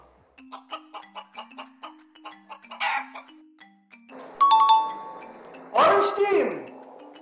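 A chicken clucks briefly amid a children's animal-guessing game, with spoken voices and musical tones around it.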